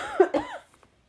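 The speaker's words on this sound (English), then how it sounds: "my cough is coming back" A person gives two quick, close coughs in a row, sharp and throaty, followed by a brief quiet trail.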